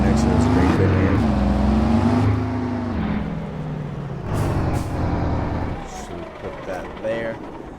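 A grain truck on a farm maneuvers to park beside a grain bin, its engine loud and close, revving and shifting in pitch with a hiss of air brakes near the end.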